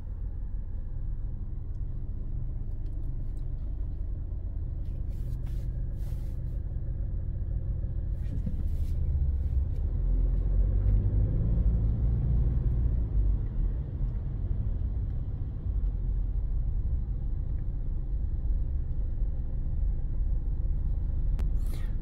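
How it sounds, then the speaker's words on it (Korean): Cars speed past on the opposite lane, heard from inside a Mercedes GLC 220d as a muffled low rumble that swells and fades, with faint cabin noise and no talk. "차량들이 꽤 빠르게 지금 달려가고 있거든요, 차량들이."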